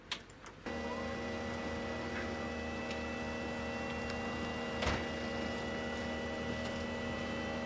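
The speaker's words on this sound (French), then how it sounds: "C'est le ventilateur en fait du système Webasto qui s'est mis à fonctionner." A steady high-pitched whine of a Webasto heater fan starts abruptly after a brief click and keeps running evenly, with faint ticks and a low hum underneath.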